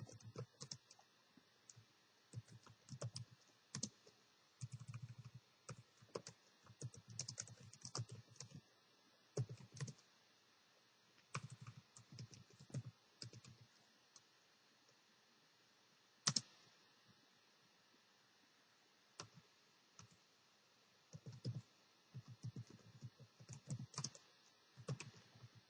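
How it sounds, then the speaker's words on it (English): Typing on a computer keyboard while building a web page, bursts of quiet rapid key clicks separated by pauses, close and faint with no talk. "So I'm just typing this in."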